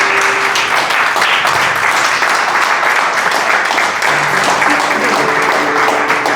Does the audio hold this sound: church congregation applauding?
yes